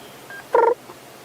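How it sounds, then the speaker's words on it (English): A small Scops owl calls at dusk on a sunset drive in the African bush, one short purring note heard close and clear over a quiet background. "So one of our smallest little owl species, a Scops owl."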